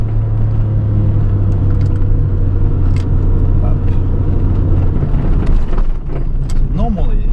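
A 1992 Suzuki Cappuccino descends Mt. Rokko in Japan in first gear, its engine a steady, close in-cabin drone with road rumble beneath and brief tonal whines near the end.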